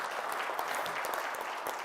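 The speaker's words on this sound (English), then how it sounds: "please big applause for him" Audience applause for the host at the close of a CyberSec Day 2022 event, a steady dense patter of many hands clapping at once, fairly quiet and distant, with no voices over it.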